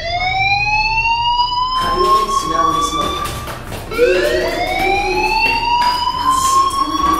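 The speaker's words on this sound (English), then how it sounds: "do you hear that fire alarm?" A fire alarm wails in the video game Life Is Strange, its rising, sweeping electronic tone restarting twice and sounding loud and steady while someone talks over it.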